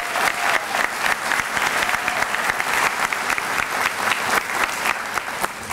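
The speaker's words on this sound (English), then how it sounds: "Can we give them all another round of applause?" An audience at a school celebration evening claps loudly and continuously, with distinct sharp hand claps standing out from a dense crowd wash, close and steady.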